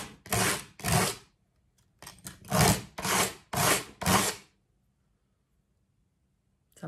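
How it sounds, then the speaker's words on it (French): Coarse-grit emery paper rubbed against ceramic dishware in six quick rasping strokes, the scratchy bursts coming in two short groups before silence. "j'ai déjà du papier emery qui sert à poncer, je me suis dit que j'allais essayer en fait"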